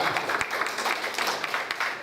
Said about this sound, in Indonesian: Tepuk aplaus untuk DKP.